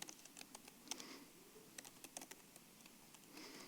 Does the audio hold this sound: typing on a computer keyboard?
yes